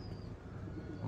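Pigeons coo softly in a low, continuous murmur, faint and distant, with no voices over them.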